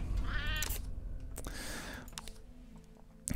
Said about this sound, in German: Katze schon wieder hungrig.